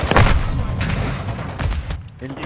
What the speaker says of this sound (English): That's my second mortar strike right here.